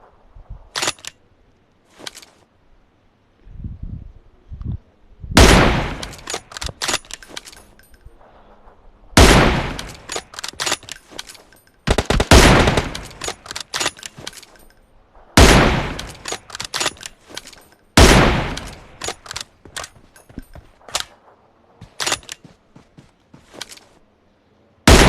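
Sniper rifle shots ring out in a PUBG Mobile match, sharp, loud cracks arriving one at a time every few seconds, with quieter in-game sounds filling the gaps between them.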